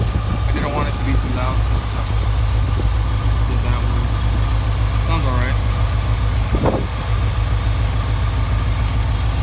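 A Whipple-supercharged Chevy Silverado with headers and 3-inch exhaust idles steadily and loudly, its low rumble running throughout, while a person talks over it in bursts.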